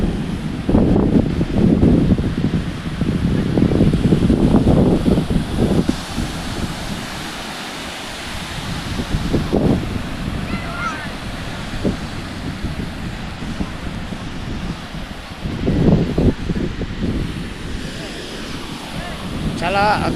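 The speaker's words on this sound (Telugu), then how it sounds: "ఈరోజు పూరి బీచ్లో ఉన్నాము." Surf rolling onto Puri beach with steady wind buffeting the microphone, a constant loud roar of breaking waves swelling and easing in slow surges, and faint voices mixed in.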